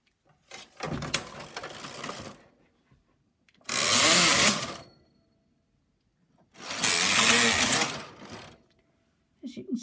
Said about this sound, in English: an easy way to remember when to stop using your lace carriage is when no more needles are selected